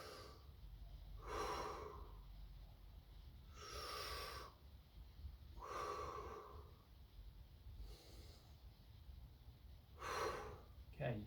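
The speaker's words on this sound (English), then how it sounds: "I take a nice big breath into this compartment here." Deep breaths during a low back mobility exercise come as five or six audible inhales and exhales, soft and close, at a slow, steady rhythm.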